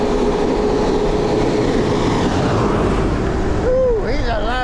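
A big truck roars past on a rural road beside a dual-motor e-bike descending a steep hill, a loud, steady broadband rumble filling the whole clip, with a brief rising tonal whine near the end.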